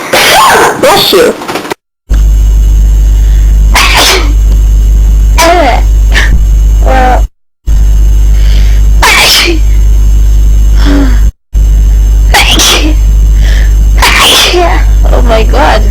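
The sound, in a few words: sneeze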